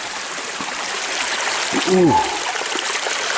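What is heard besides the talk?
small creek water flowing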